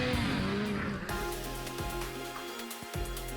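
Snowmobile sled running down a groomed trail, its engine droning steadily and continuously with shifting pitch, fairly close and loud throughout with no talk.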